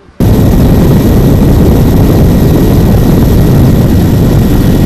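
A helicopter carries a forest regional director on an aerial tour over İçel, Turkey; its loud, steady rotor and engine roar begins abruptly and stays close and constant throughout, with no talk.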